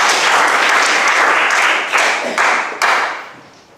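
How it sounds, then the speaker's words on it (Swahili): A classroom of students applauds a classmate, a loud close burst of clapping that fades in a few uneven waves before trailing off. "Safi, mpigeni makofi."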